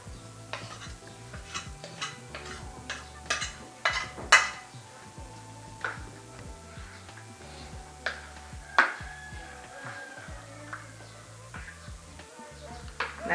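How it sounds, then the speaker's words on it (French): Octopus is stirred in its marinade in a kitchen bowl, giving irregular light clinks and scrapes of utensil against the bowl. A low hum runs underneath and no one talks. "Là, nous bien mélange le tout,"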